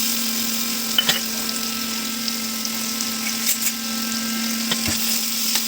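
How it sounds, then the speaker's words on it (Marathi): Sliced onion sizzling in hot oil for an egg street-food dish, a steady soft hiss with a constant hum and a few light clicks of a spoon. "तेल गरम झालेलं आहे आपलं. आपण त्यात टाकूया कांदा."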